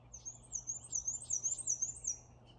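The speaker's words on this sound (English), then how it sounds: "It's a black and white warbler." A black-and-white warbler sings a high, thin, rhythmic run of squeaky repeated notes, fairly faint and alone over quiet outdoor background.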